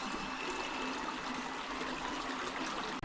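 Water in the Geruwa river flows steadily in a continuous, close rushing wash that stays even throughout, with no voices.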